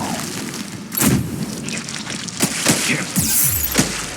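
Explosions in the Mass Effect 3 video game, several deep booming blasts spaced over a few seconds amid rumbling combat noise, loud and close, with no voices.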